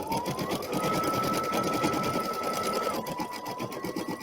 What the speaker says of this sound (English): now I'll go ahead and press her foot down and begin to embroider